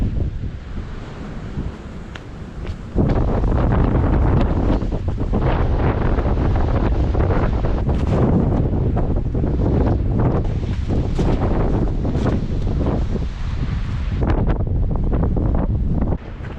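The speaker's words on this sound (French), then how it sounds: "Un vent de dingue." Strong gusting wind buffets the microphone at the 1567-metre summit of Mont Aigoual, a loud, continuous roar that surges after a quieter opening and stays heavy to the end.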